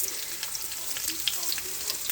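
Onions frying in a pan, a steady close hiss and sizzle with scattered crackling pops throughout, no voices.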